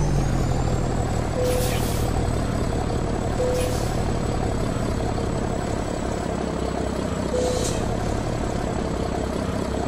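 A Kenworth T800 dump truck pulling a trailer labors up a climb, its heavy engine droning loud and steady throughout, with a few short hissing bursts rising over the rumble.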